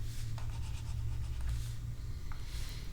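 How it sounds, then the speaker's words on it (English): An eraser rubs across a writing board in quick back-and-forth strokes, a steady, close scrubbing hiss that lasts a few seconds with no talk over it. "Let me erase that."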